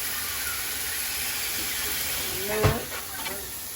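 Seasoned shrimp and steak hiss and sizzle steadily in a hot pan, with a short clatter as pieces are laid flat; the frying noise sits close and continuous.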